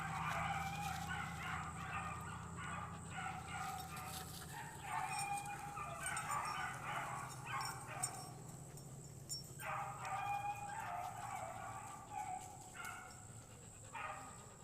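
Hunting dogs bark and yip nearby in a continuous jumble of overlapping calls, with occasional whimpers over steady background noise.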